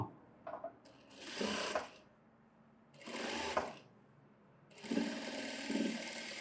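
A sewing machine stitches a hem on a synthetic blouse in three separate close, loud whirring runs, with short quiet pauses between them.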